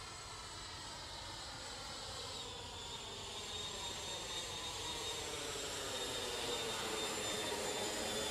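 A Freewing MiG-29 Fulcrum RC jet with twin 80mm electric ducted fans, flying in to land on its maiden flight: a continuous high whooshing whine that slowly grows louder as it approaches.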